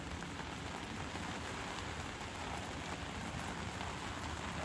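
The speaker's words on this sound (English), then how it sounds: "Oh look, rain in the UK, something different" Steady rain falls outdoors in the UK on a summer day, a dense continuous hiss of drops hitting surfaces all around, even and unbroken throughout with no voices.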